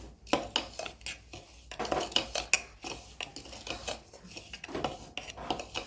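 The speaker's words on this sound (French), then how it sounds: "Je vais rajouter mon beurre que j'ai fait fondre. Voilà, je mélange." A utensil scrapes and knocks against a bowl while melted butter is stirred into a sticky dough mixture for small ham and spinach cheesecakes, in irregular close clinks and scrapes with no voices.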